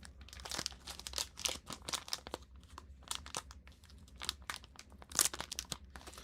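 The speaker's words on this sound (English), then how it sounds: "it's just like a little plastic bag and it's held together by stickiness." A small plastic bag from a phone case package crinkles and rustles in steady, irregular bursts, close up with no talking.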